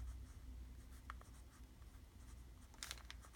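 A pen writing in a paper journal, faint steady scratching strokes close up with a sharper burst of scribbling near the end, heard alone.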